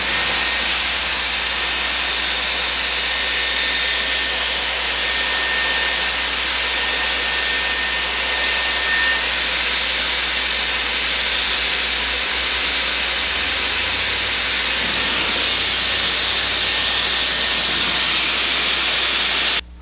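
A Dyson Airwrap Styler hair styler blows a steady, loud rush of hissing air throughout, close and continuous, with a slight shift in tone toward the end.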